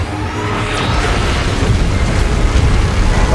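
Beam blast explosion in the PUBG Mobile video game, a loud, sustained roaring boom that fills the whole stretch with dense rumbling noise.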